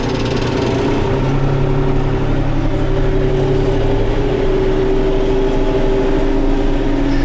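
A tractor engine drones loud and steady at low speed while pulling a plough through a sandy, stony field, a constant close rumble with no breaks.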